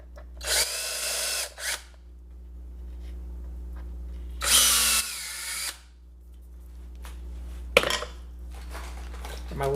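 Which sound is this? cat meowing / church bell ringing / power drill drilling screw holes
power drill drilling screw holes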